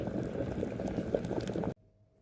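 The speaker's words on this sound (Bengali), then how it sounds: "ঢাকনা দিয়ে ঢেকে দিলে বলক উঠতে পারে" Khichuri boiling in an open pot in a hotel room, a close, steady bubbling and gurgling that stops abruptly near the end, leaving near silence.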